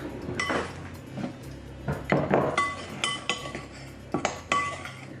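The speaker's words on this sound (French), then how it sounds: "De quoi je vais mélanger? Avec une cuillère." A spoon stirs vegan carrot cake batter in a bowl, making repeated clinks and scrapes against the sides in uneven bursts, close and fairly quiet.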